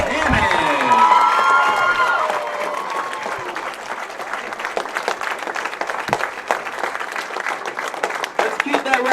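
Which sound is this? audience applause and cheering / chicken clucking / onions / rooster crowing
audience applause and cheering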